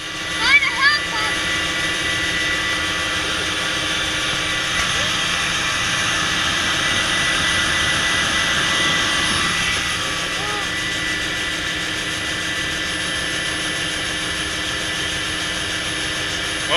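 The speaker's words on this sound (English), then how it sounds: "A helicopter." Steady, loud rotor and turbine drone heard from inside a UH-1 Huey helicopter in flight, continuous throughout with slight swells, while people talk faintly over the engine noise.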